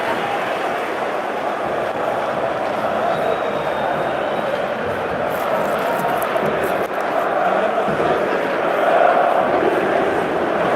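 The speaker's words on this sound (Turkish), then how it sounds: "Fenerbahçe taraftarı inançlarını anlatan tezahüratlar tempo, tempo tutuyor." Fenerbahçe supporters chant rhythmically across the stands of a packed stadium, a dense, steady roar of massed voices holding an even level throughout with a slight swell near the end.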